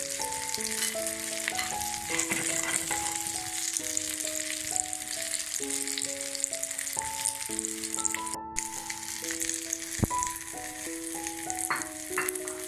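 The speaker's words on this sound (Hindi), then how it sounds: "चलिए फ्राई होने शुरू हो गया है।" Shami kebabs fry in a pan with a constant, bright sizzle and crackle, heard alongside a steady melodic music track throughout.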